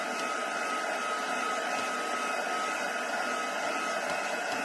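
A heat dryer blowing steadily over damp card on a craft mat, a constant loud whooshing hum with no break.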